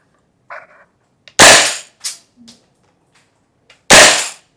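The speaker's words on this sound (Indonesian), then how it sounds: "Bunyi dari desingan besi ketemu besinya tuh bikin pengeping." Metal strikes metal in two loud, sharp, ringing clangs about two and a half seconds apart, with a few smaller clinks and taps between them, close up and with no talking.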